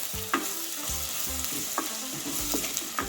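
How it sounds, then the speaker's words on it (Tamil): Dried red chillies and green chillies sizzle in a pan as they are sautéed until golden for a Jaffna-style soya bean curry. A spoon stirs and scrapes against the pan in repeated strokes over the steady frying hiss. "பொன்னிறமாக வர மட்டும் வதக்குவோம்"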